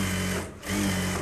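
A sewing machine runs steadily, stitching a seam in fabric for a Bharatanatyam dance costume, with a brief dip in the motor's drone midway before it resumes at full pace.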